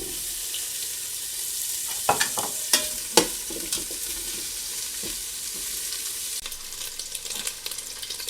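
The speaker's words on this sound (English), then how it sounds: "So let's start by browning our sausage." Kielbasa sausage browning in a Ninja Foodi, a constant hiss of frying broken by a few sharp clinks and scrapes of stirring, close and clear without voices.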